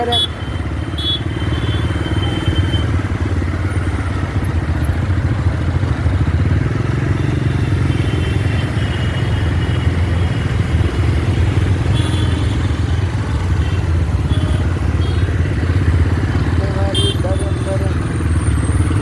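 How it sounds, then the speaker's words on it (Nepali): A motorcycle rides at moderate speed through dusty, heavy traffic beside maize fields, its steady engine drone and rattling clatter filling the scene while someone talks over it. "बाइकको स्पिड लिमिट छ है 30-40 गइरहेछ"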